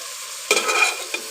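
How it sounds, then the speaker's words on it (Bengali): Spices being sautéed with dried fish and radish in a pan, a quiet background hum broken by a short burst of sizzling and stirring, then a second brief stir, close and fairly loud. "এখানে আমি এই যে মশলা কষিয়ে নিচ্ছি, মূলাটা দিয়ে দিব।"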